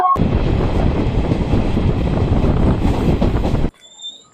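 The 13113 Hazarduari Express train running from Kolkata toward Lalgola, a loud rattling rush of wheels and carriage noise close by, steady for several seconds before cutting off abruptly to near quiet.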